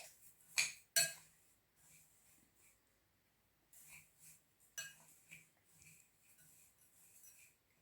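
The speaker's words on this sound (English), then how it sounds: "So I'm going to mix it with a spoon until it's very wet." A spoon stirs buttered cornflakes kunafa in a bowl, giving two sharp clinks at the start, then soft scraping and rustling that stays quiet and close.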